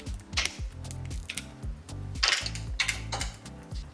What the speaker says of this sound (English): we're going to loosen the triple clamp bolts here